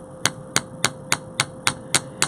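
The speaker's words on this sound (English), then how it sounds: "I'm hammering in, not using too much force." Steady, evenly spaced light hammer taps on a steel bench block while flattening a handmade wire earring, eight crisp metallic strikes close up with nothing else heard.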